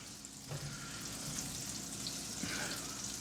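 Big mushrooms fry in a pan with a faint, steady sizzle and occasional soft clinks, quiet and close, with no talking.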